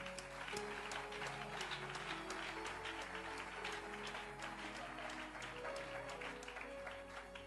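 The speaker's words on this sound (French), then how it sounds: "Acclame bien pour le Saint-Esprit." A church congregation claps together in dense, steady applause for several seconds, with a faint sustained musical tone underneath.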